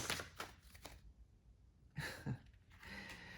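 Tarot cards shuffled by hand during a reading, soft riffling bursts in short bouts with a quiet pause between, close and faint, no speech.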